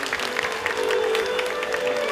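Audience applause at a Ramleela and Dussehra celebration for the volunteers who built the Ravana effigy, a dense steady clapping from a crowd that holds loud and even for about two seconds.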